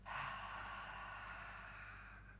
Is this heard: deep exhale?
yes